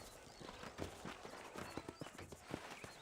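Horses' hooves clip-clopping in the Western video game Red Dead Redemption, a quiet, uneven run of dull hoof strikes on dirt under a soft ambient bed.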